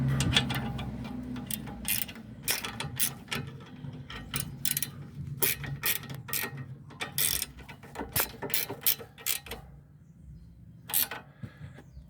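A ratchet wrench tightens the stabilizer link bolts on a 2014 Honda Vezel RU3 Hybrid, giving quick runs of close, crisp clicks with short pauses between strokes.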